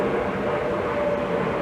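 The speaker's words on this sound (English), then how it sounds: "Excuse the plane." A jet airliner passing overhead near Logan Airport in Boston, heard as a steady, loud broadband roar with a low rumble that holds at an even level throughout, with no voices.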